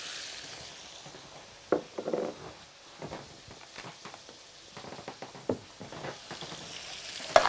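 Mushrooms sizzle in a pan with onions and meat, a steady frying hiss broken by scattered scrapes and clatters of stirring, close and moderately loud, with no voices.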